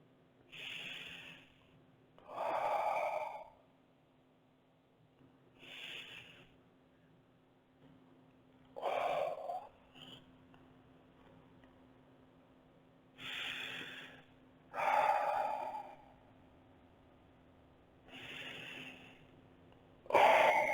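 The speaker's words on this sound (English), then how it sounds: "Just breathing, guys, here with you." Slow, deep breaths during a stretching pose in a flexibility workout, close and soft, about nine inhale-exhale cycles at an even pace over a faint steady hum.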